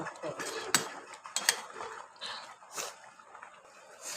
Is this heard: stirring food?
yes